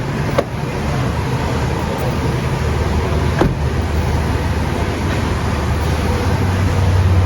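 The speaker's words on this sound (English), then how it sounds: "Let it run for like 10 seconds so the oil could really run through the car." A car engine idles steadily during an oil change, a loud, even running drone broken by a couple of brief clicks.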